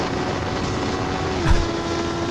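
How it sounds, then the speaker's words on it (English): 400cc motorbikes racing on the Sepang track, a continuous high engine drone with a brief louder whoosh as one passes close by. "that's what happens when the 400 bikes fly by."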